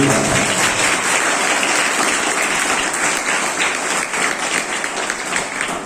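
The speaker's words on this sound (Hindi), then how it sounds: "एक बार मैं चाहूंगा इस विद्यालय के सारे शिक्षक और सारे हमारे शिक्षिकाओं लोगों के लिए एक ताली" An audience applauds the teachers of a DAV Public School, steady dense clapping filling the hall at close range for the whole stretch, with faint voices mixed in.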